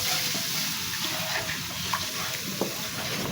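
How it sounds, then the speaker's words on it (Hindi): Steady, bright sizzling and bubbling as a little water goes into a hot pan of dal tadka tempering, with a continuous frying hiss throughout and a few faint clinks. "इसमें हम ये थोड़ा सा पानी डालेंगे।"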